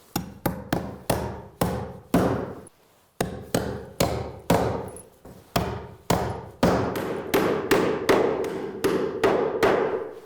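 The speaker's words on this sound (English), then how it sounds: "just nail them in, every hole." A hammer drives nails into a hurricane tie on a roof, ringing out as a long series of loud, close, sharp blows in quick rhythmic groups with short pauses between nails, and no talking.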